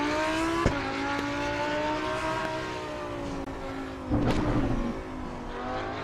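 A racing car engine in a driving simulator game drones at high revs, its pitch climbing steadily, with two sharp gear-shift cracks, the second followed by a brief rougher burst.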